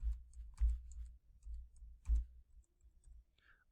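Typing a WiFi passphrase on a computer keyboard: a few soft, scattered keystroke clicks, quiet and close, over a low background hum, with no talk.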